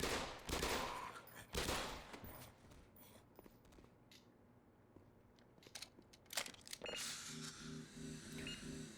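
Gunfire bursts in the Black Mesa video game, several sharp volleys in quick succession early on, a quieter lull, then more shots and mechanical clatter near the end, all close and loud.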